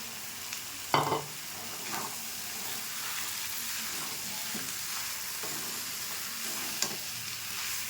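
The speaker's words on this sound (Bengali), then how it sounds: "এবার আমি আলু আর সয়াবিনটা দিয়ে দিচ্ছি। দিয়ে ভালো করে মিশিয়ে নেব।" Diced potatoes, soybean chunks and peas are stirred into frying spice paste in a pan, giving a steady soft sizzle with a few scraping spoon strokes; no one speaks.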